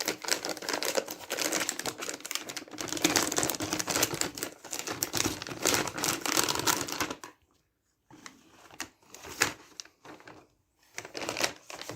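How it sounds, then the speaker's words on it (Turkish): Protective tape is peeled off the back of an MSI GeForce RTX 3060 Ti Gaming X graphics card: a close, continuous crackling rasp for about seven seconds, followed by scattered short crinkles and pauses. "Bu bantı şöyle çıkarıyorum."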